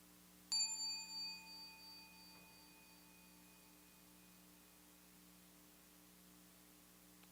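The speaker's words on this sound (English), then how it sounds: "The sound of the bell arose in awareness. It shone in awareness. It faded away in awareness." A bright bell strikes once, close and clear, its ringing tone sustaining and slowly fading away over several seconds above a steady low electrical hum, with no talking.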